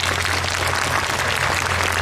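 A theatre audience at a Taiwanese opera curtain call applauds the backstage stage, lighting and video crews, a dense, even wash of clapping filling the hall without a break.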